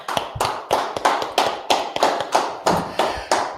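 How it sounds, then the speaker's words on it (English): A group in a Biblical law class claps together in a steady unison rhythm, about a dozen sharp, evenly spaced claps with no talking over them. "Clap it up"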